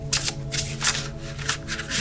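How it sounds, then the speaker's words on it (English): Tarot cards shuffled by hand, close and crisp, with a quick run of papery riffles and flicks in an uneven rhythm. "I'm shuffling with the book."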